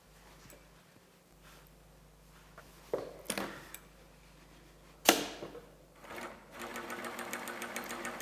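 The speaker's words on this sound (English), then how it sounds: "So the first area I am stitching till below of the pocket bag." An industrial sewing machine stitches a garment side seam past a pocket bag using a pneumatic edge guide. Bursts of rapid mechanical stitching and a sharp pneumatic hiss come and go, ending in a steady fast run, close and clear.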